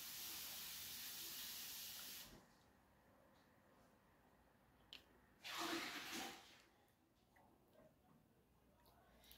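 Makeup setting spray hisses in a steady fine burst, falls quiet, then two shorter sprays follow, close and fairly soft.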